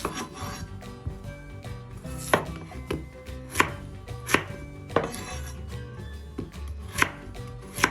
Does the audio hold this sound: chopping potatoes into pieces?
yes